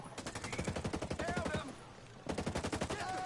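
Automatic gunfire in the video game Ghost Recon Breakpoint: two rapid bursts of shots, loud and close, split by a brief pause, with a voice talking between them.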